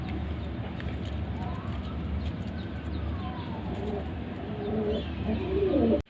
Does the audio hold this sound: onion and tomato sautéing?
no